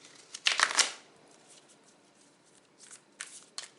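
Sticky tarot cards are shuffled by hand in quick, close riffling bursts. One louder flurry comes first, then a few shorter bursts follow after a pause, with no talking over them.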